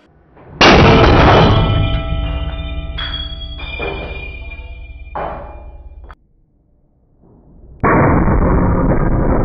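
A steel ball bearing bursts apart under a hydraulic press with a sudden, loud, close crack that rings on with metallic resonance for several seconds, followed by scattered clinks and a second loud burst of noise near the end.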